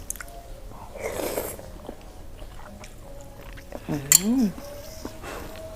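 Someone biting and chewing khanom jeen rice noodles with spicy fish-organ curry, soft close mouth sounds and a faint clink of cutlery, with a voice briefly talking and a short vocal exclamation near the end.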